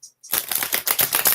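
Tarot cards are shuffled up close in a rapid, continuous riffling flutter that starts after a brief silent pause and runs to the end, with no talking.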